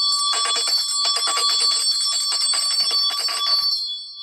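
Bell ringing in rapid, continuous metallic strikes, a bright sustained jangle that holds steady for about four seconds, then stops abruptly.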